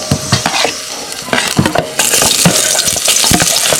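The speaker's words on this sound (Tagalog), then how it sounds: "Igigisa na natin kaibigan. Ayun. Bawang. Isunod natin ang sibuyas." Garlic and then onion hit hot oil in a pan, loud sizzling broken by scraping stirs and clinks of a utensil, the frying growing brighter and fuller partway through.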